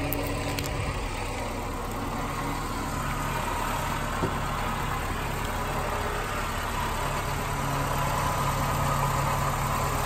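A car engine idles steadily while serving as the jump source for a 12 valve diesel, a constant low rumble close by with no talking.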